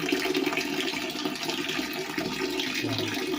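Water rushes and gurgles steadily, like a toilet flushing nearby, a continuous hissing swirl that lasts throughout.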